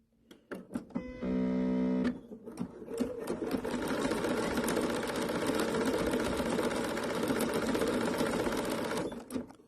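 A sewing machine runs a straight stitch along the raw edge of an appliqué, starting with a short burst and then humming and clattering steadily for several seconds, close and loud, with no foot pedal in use.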